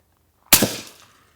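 A single suppressed shot from a modernized .45-70 lever-action rifle, a sharp, close, fairly loud crack after silence, followed by a quick decaying thud.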